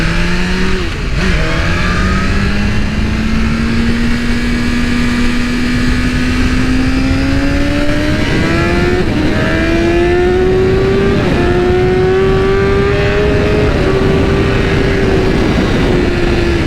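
A red 2023 BMW S1000RR motorcycle accelerates hard on a road, its engine note climbing steadily through the revs toward 8–9K RPM, loud and close throughout with rushing wind beneath.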